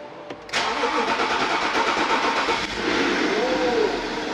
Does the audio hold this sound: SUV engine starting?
yes